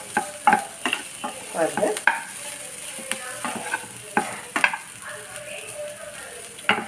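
Raw banana pieces are stirred in oil in a pan, giving repeated scraping strokes and light sizzling, with a brief spoken word over the cooking sounds.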